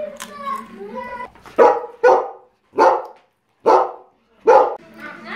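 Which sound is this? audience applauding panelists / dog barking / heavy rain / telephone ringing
dog barking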